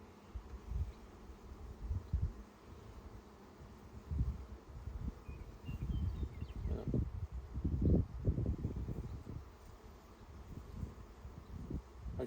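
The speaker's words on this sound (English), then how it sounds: "Looks like probably a lot of fresh bees came out recently," Low, steady buzzing of many honeybees close by during a hive inspection, a quiet continuous drone with occasional louder swells and faint rustling.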